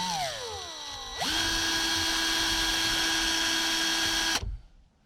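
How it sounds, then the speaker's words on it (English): A power drill runs steadily with a rotary bit chamfering the edge of a hole in a wooden model ship, winding up briefly, holding a loud, even whine for about three seconds, then stopping abruptly. "That helps chamfer the edge of the opening of the hole."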